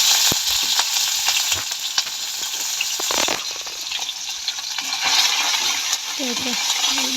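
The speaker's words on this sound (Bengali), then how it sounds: "এখন একটা ফ্রাই প্যানে তেল দিয়ে চিংড়িগুলোকে ভেজে নিচ্ছি।" Prawns frying in oil in a frying pan, a steady close sizzle running throughout with occasional stirring clinks and brief faint voice-like sounds.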